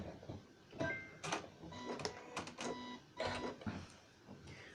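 A sewing machine stitches a makeup bag in short, quick bursts of rapid mechanical clatter, starting and stopping as it works forward and back stitches, with quiet pauses between runs.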